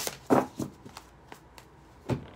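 Tarot cards being shuffled by hand, a quick series of close papery riffles and slaps, with a few distinct bursts over about two seconds and no talking.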